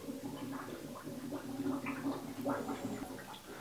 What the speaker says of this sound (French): Pourquoi la baignoire elle fait des bulles comme ça?